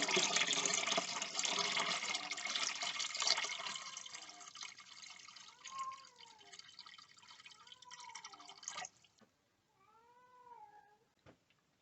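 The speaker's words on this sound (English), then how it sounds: "Water from the bowl refill tube will be transferred to the gallon jug." Water from a toilet bowl refill tube pours into a gallon jug as a steady, fairly loud hissing stream for about nine seconds, then cuts off abruptly. A cat meows repeatedly over the flow and again afterward.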